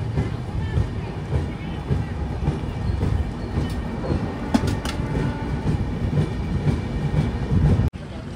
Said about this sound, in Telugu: మన ట్రైన్ అయితే దువ్వాడ నుంచి బయలుదేరింది